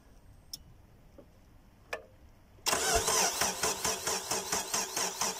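A Chery Amulet car engine starting: a few faint clicks and ticks, then the engine cranks and catches abruptly, settling into a loud, steady, pulsing idle close by.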